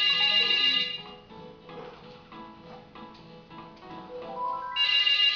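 A mobile phone ringtone plays through, a bright repeating electronic melody that rings loudly at the start, dips under other game-like sound in the middle, and returns at full strength at the end.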